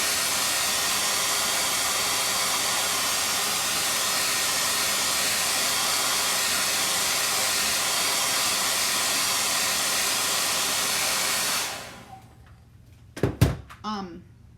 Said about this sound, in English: I feel like this hairdryer dries the